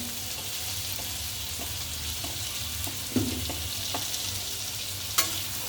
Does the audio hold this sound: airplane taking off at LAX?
no